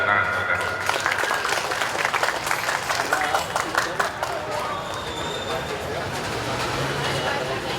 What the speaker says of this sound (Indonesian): Tepuk tangan, saudara.